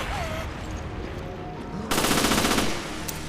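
Automatic gunfire in Resident Evil Revelations' Abyss Raid Mode, a dense burst of rapid shots that swells loud partway through over ongoing game ambience, then eases back.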